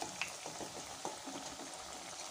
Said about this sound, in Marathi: अशा प्रकारे बाकीचे कटलेटसुद्धा तुम्ही छान तळून घ्या